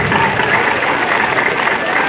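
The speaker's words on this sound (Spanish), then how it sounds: "Fuertes aplausos." Crowd applause at a municipal festival ceremony for the September 15–16 celebrations in Ezequiel Montes, a steady dense clapping that fills the whole moment, loud and close with some crowd noise mixed in.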